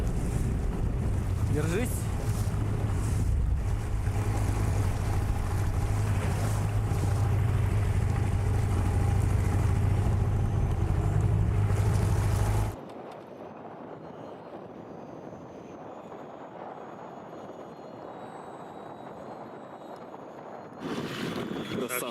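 Steady wind roars across a lake around a small fishing boat, loud and broadband for the first half, then drops to a quieter gusty rush before swelling again; someone speaks briefly over it.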